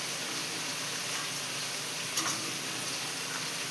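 Tadka for dal sizzles quietly in hot oil, an even, soft frying hiss with one brief crackle midway and no voices.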